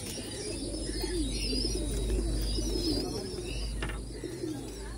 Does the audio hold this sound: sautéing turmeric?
no